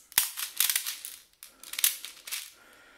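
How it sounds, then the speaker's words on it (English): Small plastic BBs are poured from a speed loader into the tubes of a CYMA M052 40mm airsoft grenade shell, giving bursts of sharp rattling clicks in short clusters, close-up and separated by brief pauses. "I'm just going to put a few in each tube."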